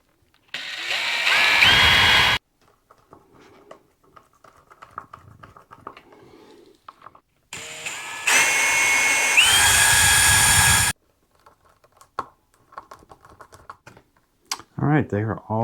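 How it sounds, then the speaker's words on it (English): Two loud bursts of a power drill whirring as it drills holes in a Fender Telecaster guitar body, each a few seconds long, with quieter tapping and handling noises in between. "we're going to have to drill some holes here"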